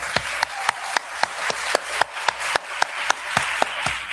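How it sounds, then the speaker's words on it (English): A small audience at a church brunch claps in a steady, synchronized rhythm, about four beats per second, sounding close and even with no voices over it. "Could we give her a round of applause?"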